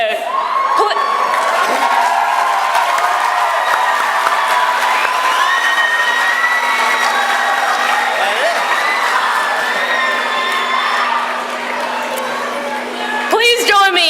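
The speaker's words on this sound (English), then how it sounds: "Please join me in giving him another round of applause." After a keynote at a student leadership conference opening session, a large crowd cheers, whoops and shouts over clapping in a sustained loud roar of voices that surges again near the end.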